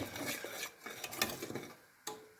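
A spoon scrapes and stirs around a pot of thickening chocolate pudding with dark chocolate, continuous soft swishing with light metallic clinks and one sharper knock near the end, close and quiet.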